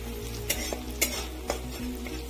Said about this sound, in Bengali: গোটা জিরা দিয়ে দিলাম।